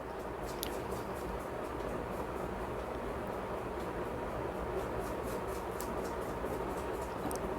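Train on a railway journey in Jharkhand, a steady, continuous rumble and rattle of carriages heard from inside, moderately quiet and unbroken throughout.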